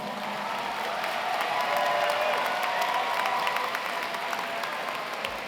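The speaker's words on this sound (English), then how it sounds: "Let's give them a big round of applause." Crowd at a Science Olympiad national awards ceremony gives a big round of applause, dense steady clapping with faint cheering, swelling slightly then holding through to the end.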